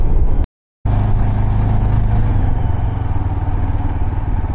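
Yezdi Adventure motorcycle engine drones loudly and steadily while riding, a close, continuous throbbing roar with wind rush, briefly cutting out to silence near the start.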